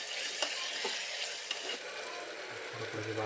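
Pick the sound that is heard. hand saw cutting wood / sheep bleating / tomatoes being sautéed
tomatoes being sautéed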